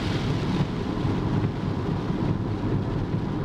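Rain on a road heard from inside a moving car, a dense, loud, even roar of water and tire spray with low rumble throughout, no talking.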